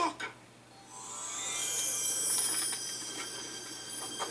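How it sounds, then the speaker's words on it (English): An approaching train in a Back to the Future film scene builds from quiet into a rising high-pitched wheel squeal and rolling rail noise that swells and lingers, with no talk over it. "The train!"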